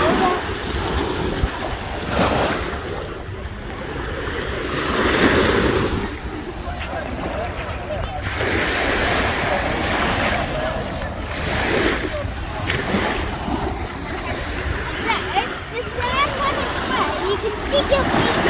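Sea waves roll and wash onto Broadstairs Beach in Kent in a steady broad surf, swelling and easing every few seconds, with wind buffeting the microphone and faint voices nearby.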